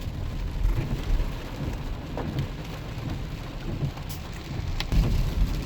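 Steady patter of rain on a car while driving to work, a dense hiss with low rumbling underneath and occasional louder drops, no talking.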